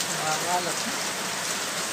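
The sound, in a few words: heavy rain at a construction site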